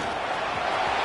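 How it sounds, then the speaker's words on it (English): Loud stadium crowd roaring to spur the Clemson defense during a red-zone stand against Coastal Carolina, a dense, continuous wall of cheering noise. "here comes the noise as Crowd is trying to inspire this defense to make a big red zone"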